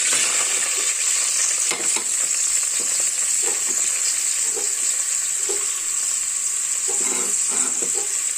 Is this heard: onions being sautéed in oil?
yes